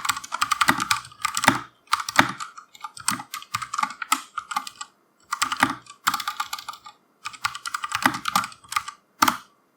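Close, brisk typing on a computer keyboard during a Git command-line session, with rapid clicking keystroke bursts separated by short pauses.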